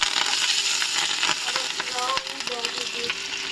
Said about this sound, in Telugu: కొంచెం ఫ్రై అయినాయి కదా.